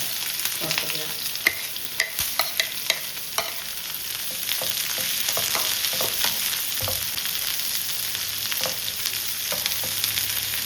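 Chopped onion and green chilli fry together in hot oil with a loud, continuous sizzle and crackle, and quick stirring scrapes and clinks come in bursts near the start.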